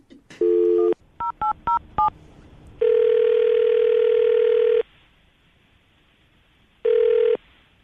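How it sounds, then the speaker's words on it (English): A telephone dialing a number, heard as a burst of touch-tone beeps followed by a short series of quick DTMF key tones, then two long ringback tones separated by a silent pause, all clear and close with no talking. "I'm going to dial the phone number right now."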